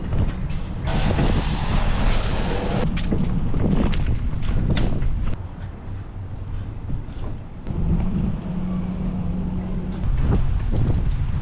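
Strong wind buffets the microphone while someone rides a bike, a loud, gusty roar that rises and dips over the stretch, with scattered knocks and clatter.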